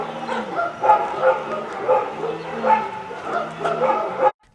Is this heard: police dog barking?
yes